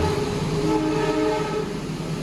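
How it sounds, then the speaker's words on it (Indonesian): The Bangunkarta passenger train rolls past close by, a loud continuous rumble of wheels and carriages with tonal horn-like hums layered on top, and no talk. "ini adalah kereta Bangunkarta"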